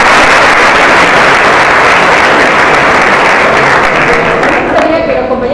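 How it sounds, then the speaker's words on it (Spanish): Loud, sustained applause from an audience at an introductory talk, dense clapping that holds strong before thinning out near the end as a voice begins to come through. "Sabrina, un aplauso para Sabrina que levantó a las 3."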